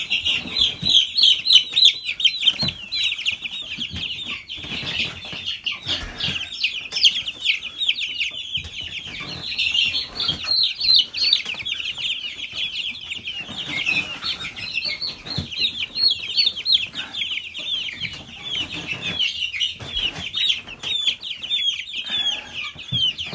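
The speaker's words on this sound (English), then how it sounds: "There's all 10 of our meat birds, guys." Ten young meat chicks in a homemade brooder keep up a dense, continuous chorus of high-pitched peeping and chirping, loud and close throughout, with occasional soft shuffling underneath.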